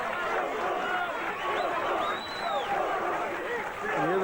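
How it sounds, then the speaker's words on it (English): A boxing arena crowd at the Arguello vs. Ray Mancini WBC lightweight title fight roars and chants for Mancini, a steady, far-off swell of voices rising and falling under a commentator's voice. "You hear the crowd chanting boom boom."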